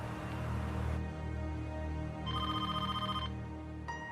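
Telephone ringing indoors: electronic ring bursts repeating with short gaps, clear and moderately loud, with no talking.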